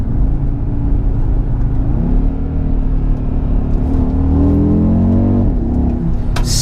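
An Audi RSQ3 with a 2.5-litre five-cylinder engine revs close up, its steady loud drone rising and settling through several pitch swells over a deep rumble.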